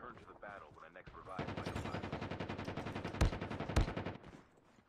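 Rapid automatic gunfire in the Call of Duty Mobile battle royale mode, a steady fast burst of shots lasting several seconds with two louder sharp cracks near the end, following a brief voice at the start.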